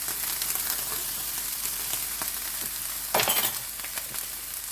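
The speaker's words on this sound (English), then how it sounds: "It's just going to toast the spices a little bit." Dry curry powder toasting in a hot pan over slightly lowered heat, giving a steady soft sizzle and crackle with a brief brighter burst of clinking and stirring partway through.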